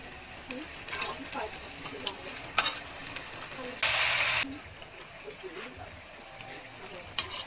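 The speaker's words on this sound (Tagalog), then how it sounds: "ito na po yung prito natin" Quiet sizzling of carrot fritters frying in oil, with soft scraping and clicking from stirring and a brief louder hiss midway.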